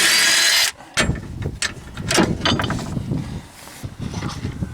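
Power tool works loose a 15 mm lower control arm bolt on a 2006 Chevy HHR, a short loud burst followed by rattling, clanking ratchet and metal sounds nearby.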